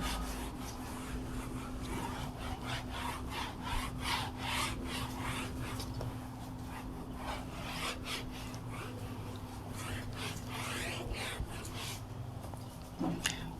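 A classroom board being rubbed clean with an eraser, repeated quiet scrubbing strokes in an uneven rhythm against a low steady hum, with no speech.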